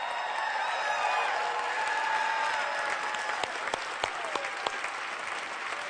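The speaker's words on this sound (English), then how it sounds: "stand up and give yourselves a massive round of applause for being here" A standing seminar audience gives a sustained, dense round of applause for the attendees themselves, a steady roar of many hands with a few louder individual claps standing out near the end.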